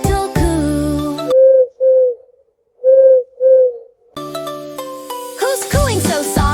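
A dove gives soft, low coos in two pairs of short hooting notes, isolated in silence between stretches of louder music.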